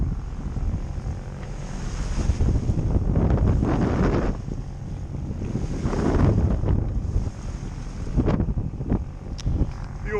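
Boat motoring at sea off Lowestoft under autopilot at about 7 knots, with a steady low engine and water rush mixed with surging wind buffeting the microphone, rising and falling in gusts.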